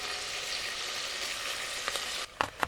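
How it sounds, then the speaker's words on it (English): Beaver meat frying in a pot, a steady close crackling sizzle, then a few sharp scraping knocks as a utensil stirs it near the end. "I'm keeping an eye on my beaver meat there, making sure to stir it quite often."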